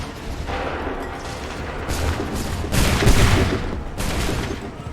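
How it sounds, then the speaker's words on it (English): A musket volley in Assassin's Creed III, heard as a loud, dense crackle of many guns firing together that swells into a heavier rumbling burst before trailing off. "Open fire."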